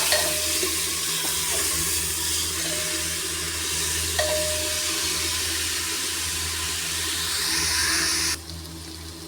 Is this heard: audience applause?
no